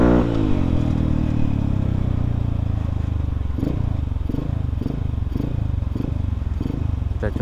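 A modified Yamaha Vixion supermoto engine idling with a deep, lumpy exhaust note, then given a rhythmic series of sharp throttle blips, close and loud.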